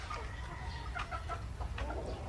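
A Raptor Sweater gamefowl rooster on a game farm clucks in several soft, short calls, moderately close over a low steady background rumble.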